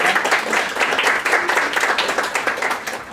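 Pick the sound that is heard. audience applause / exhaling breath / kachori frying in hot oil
audience applause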